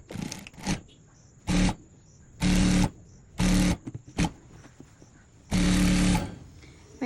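A sewing machine runs the side seams of a dartless model gown in several short bursts of whirring stitching, separated by quiet gaps, close and fairly loud.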